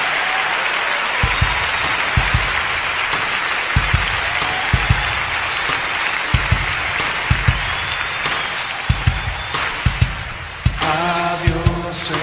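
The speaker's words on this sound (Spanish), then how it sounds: "¿Por qué no le dan un aplauso fuerte al Señor?" Loud, sustained applause from a large church congregation, steady clapping filling the space for several seconds, with a few sharper claps standing out.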